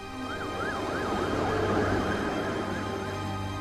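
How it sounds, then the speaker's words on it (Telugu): An ambulance siren wails continuously at loud, steady volume, its tone sweeping up and down over a low rumble, with no voices. "అప్పుడే మా ఇంటి వైపు ఏదో అంబులెన్స్ సౌండ్ వస్తున్నట్టు వినిపించింది"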